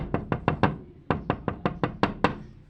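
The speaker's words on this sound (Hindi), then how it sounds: "उनके घर का दरवाज़ा बजने लग जाता है" Knocking on a house door in a cartoon, a rapid series of four sharp knocks, a brief pause, then seven more crisp, close raps in a quick rhythm.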